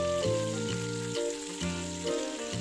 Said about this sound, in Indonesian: Masak hingga kecoklatan. Kemudian balik sisi satunya supaya matang merata.